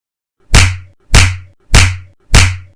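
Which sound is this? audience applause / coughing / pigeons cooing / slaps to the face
slaps to the face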